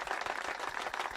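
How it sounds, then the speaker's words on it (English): Hand clapping during a live tarot reading stream, a quick run of several soft, evenly spaced claps over about a second, fairly faint. "That's the clap."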